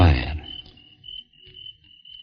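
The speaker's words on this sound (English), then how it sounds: "There were a couple of crickets outside" A couple of crickets chirp outside on a quiet night, giving a thin, steady high trill that follows a short burst of other sound at the start.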